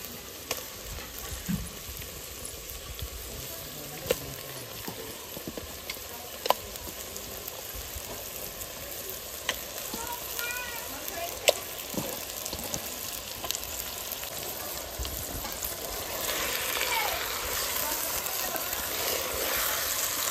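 Mutton frying in hot oil inside a clay cooking pot, a steady close sizzle running throughout with scattered sharp crackles and pops, growing a little louder and denser toward the end, with no talk over it.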